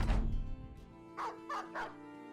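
Dogs in the video game Battle Brothers give a loud bark followed by three quick, fainter barks at an even pace against a quiet background.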